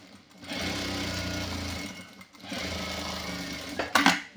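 Tailor's sewing machine stitching a shirt collar, two close bursts of rapid steady stitching separated by a brief pause, ending with a sharp clack.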